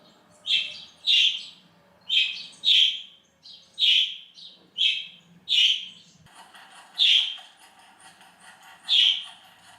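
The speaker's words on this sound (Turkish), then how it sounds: "Kuşumuz böyle bir kuş sesi falan duyduğu zaman bir yerde deli gibi ötmeye başlıyor" A pet bird sings repeated bright, rising chirps in pairs, about one every second, close and clear against a quiet room.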